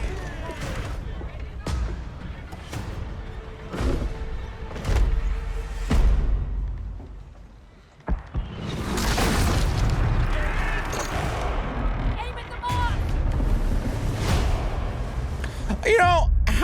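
Cannon fire from pirate ships in the Skull and Bones video game: a steady series of deep booms at roughly one-second intervals, then heavier blasts and rumbling battle noise, with people talking over the action.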